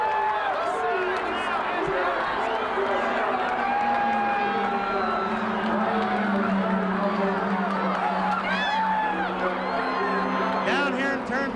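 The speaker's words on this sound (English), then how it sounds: "You should hear the crowd." A large Indy 500 grandstand crowd at the 1994 race roars and cheers after Emerson Fittipaldi's car brushes the wall on lap 184, a sustained, distant wash of excited voices and whoops under commentary.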